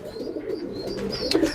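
Pigeons in a pigeon loft give low, soft, continuous cooing, with a faint chirp or two over it.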